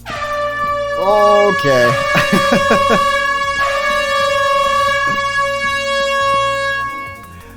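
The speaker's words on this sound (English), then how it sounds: "I can't talk while the air horns are going" Air horns blare during a Minecraft stream: loud, sustained, overlapping horn tones with a stuttering burst partway through. A voice briefly speaks underneath.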